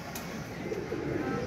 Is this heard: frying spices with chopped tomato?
no